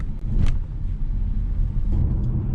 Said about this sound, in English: we're gonna go ahead and take it for a test drive and see how it goes.